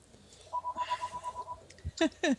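A telephone rings with a steady electronic tone burst followed by two short sharper trills, faint and close, with no talk over it.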